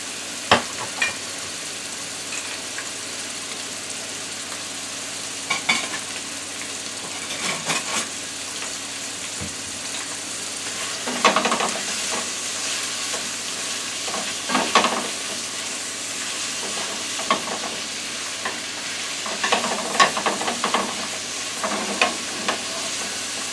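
Steady sizzling of food stir-frying in olive oil in a frying pan, with intermittent scraping and clattering as it is stirred, close and continuous.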